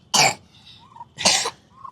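A sick child with a mild fever gives two sharp, close coughs about a second apart, with faint breathy sounds between them.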